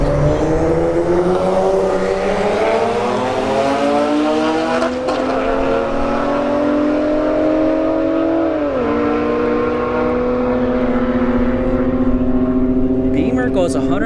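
A Nissan 370Z and a BMW 135i drag racing at a motorsports park, engines revving steadily and climbing through a long pull with a gear shift near the end, loud and sustained while a commentator talks over it.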